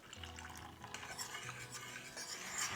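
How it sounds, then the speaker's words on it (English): Milk is poured into a smooth white sauce paste while a whisk stirs steadily. Pouring and whisking blend into a continuous close, busy scraping rustle, with light clinks against the pan and no voices. "I'm going to add in all the remaining milk at once."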